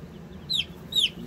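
Broiler chickens give two short, high squawking calls about half a second apart over a quiet, low background rumble.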